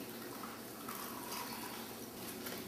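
Beef stock pours into a plastic freezer bag in a steady, soft gurgling stream for a few seconds, close by and fairly quiet.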